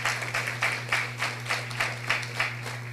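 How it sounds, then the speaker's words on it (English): An audience at a housing drive ceremony in Lethem, Region 9 gives a round of applause, a steady wash of many hands clapping over a constant low hum from the sound system. "please join me in giving them a big round of applause for the hard work that they are doing"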